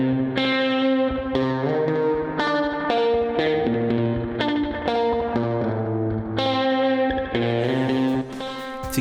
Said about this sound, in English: I originally wrote the whole thing on guitar, and it goes like this.